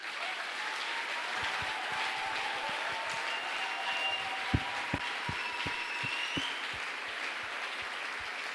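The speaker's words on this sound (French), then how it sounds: "Est-ce qu'on peut acclamer Jésus?" Sustained applause from a church congregation acclaiming Jesus, a steady dense patter of clapping with a few sharper individual claps standing out, with no talk over it.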